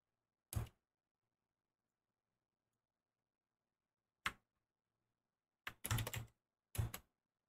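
A line is typed on a computer keyboard in a quiet room: one isolated key click, another after a pause, then a short burst of clicks and a final couple of taps.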